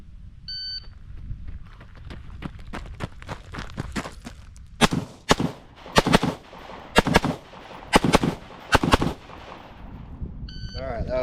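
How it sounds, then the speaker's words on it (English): An IWI Tavor X95 rifle fires pairs of sharp, loud shots at targets on a range, with several quick double-taps in a steady rhythm after softer handling noises and a faint beep. "then I'll fire 2 shots on each target, any order you want, anywhere you want"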